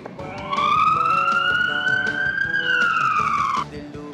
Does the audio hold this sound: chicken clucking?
no